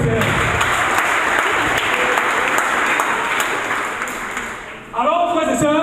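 A church congregation applauds with sustained, dense clapping that fades slightly before a voice begins speaking at the end.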